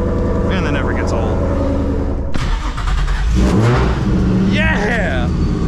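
A boosted Nissan 350Z race car engine revs hard and accelerates, loud and close, with a sharp break midway as it climbs again through rising, raspy engine tones.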